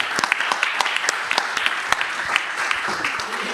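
Audience applause after a speaker's talk at a conference on smoke-free policy: steady, dense clapping from a seated crowd with a few sharper individual claps standing out, moderately loud throughout.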